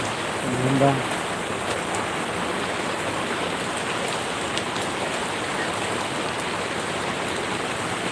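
Steady rain pours down in a dense, even hiss throughout, with a brief faint voice near the start.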